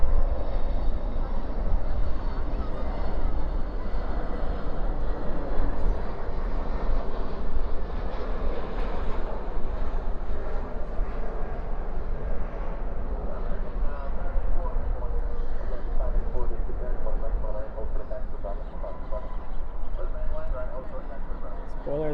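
An Airbus A321neo lands at night at DFW airport with spoilers up and thrust reversers out, making a broad, sustained roar that holds steady for over twenty seconds at a distance. People talk over it.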